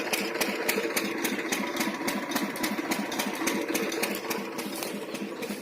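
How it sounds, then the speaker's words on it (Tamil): A 60V 600W BLDC solar water pump with 3-inch delivery, fed by four monocrystalline panels and installed for farm irrigation, running steadily outdoors with a continuous motor hum and rapid rhythmic ticking and no talk. "அங்கே ஒரு மோட்டர் ஓடுது பாருங்கள்"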